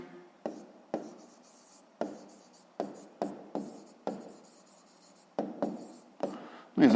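Pen or pencil writing a math answer on paper, with about a dozen short scratchy strokes in an uneven rhythm, close and quiet, and no voice.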